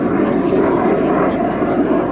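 A jet aircraft powered by a Bristol Siddeley Viper turbojet flies past at the Little Gransden air and car show. Its steady, loud, broadband engine roar fills the whole moment without a break.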